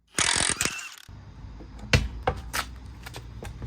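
A ratchet backing out 8 mm bolts under a BMW G30 540i, with a burst of rapid clicking up close at the start, then scattered clacks and clicks of the tool and hardware against low mechanical background.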